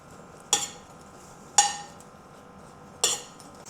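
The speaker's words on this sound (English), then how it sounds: "Continue stir frying so that it will not burn, and turn down the heat if it is too hot." A utensil clinks sharply against a pan three times at irregular intervals while stir frying lion's mane mushrooms, over a faint background hiss, close by, with no voices.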